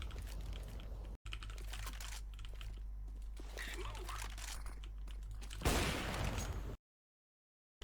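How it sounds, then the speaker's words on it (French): Computer keyboard typing heard over a headset during a Counter-Strike match, a faint, steady clatter of keystrokes under game sounds and talk. "J'entends son clavier, j'entends tout"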